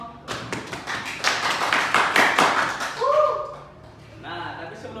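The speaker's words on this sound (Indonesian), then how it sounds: "Beri tepuk tangan yang meriah dong." Audience at a group seminar practice claps in a brief burst of scattered, fairly close hand claps for about three seconds, then a voice speaks.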